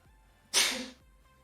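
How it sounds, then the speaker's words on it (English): A single sharp sneeze bursts out suddenly and fades within half a second, loud and close against a quiet, humming room. "Bless you, whoever just sneezed."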